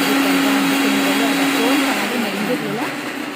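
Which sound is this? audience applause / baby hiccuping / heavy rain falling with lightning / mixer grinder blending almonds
mixer grinder blending almonds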